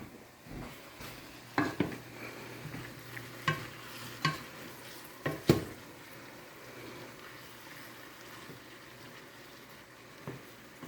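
Ground beef with onions and mushrooms fries in a pan, with a soft steady sizzle under a series of clanking utensil strokes as the mixture is stirred, then quieter sizzling.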